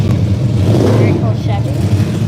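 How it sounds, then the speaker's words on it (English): A loud gasser-style hot rod engine at a classic car show in Glendora, California, growling and revving as it rolls past close by, with people talking over the sound. "Here, we get that gasser as he goes by."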